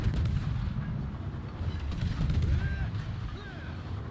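Naval gunfire from warships in World of Warships, a tier 10 British destroyer battle, with a continuous dense rumble of booming shots and explosions running throughout, steady and loud, with faint tonal whistles above.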